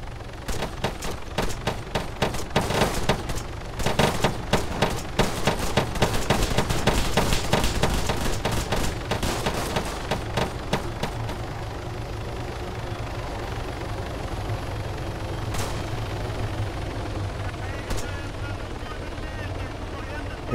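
Arma 3 Altis Life gameplay with bursts of rapid gunfire over a steady helicopter rotor drone, dense shots for about ten seconds then fading to the continuous aircraft hum, with talk throughout.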